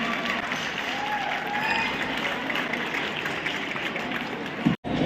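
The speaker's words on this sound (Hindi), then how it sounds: "तो एक बार पूजा जी के लिए जोरदार तालियां हो जाए।" An audience at a talent awards ceremony in Bhatapara applauds a performer named Pooja with a steady, dense roar of clapping under faint crowd murmur, ending in a brief sharp cut.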